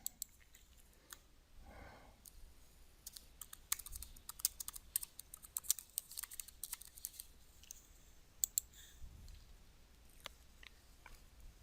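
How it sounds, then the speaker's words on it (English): Computer keyboard typing in a quiet room, a burst of quick irregular keystrokes followed by a few sharper clicks, close and fairly soft, with no voices. "I'll enter Narrow Ruled Notebook and click the Go button."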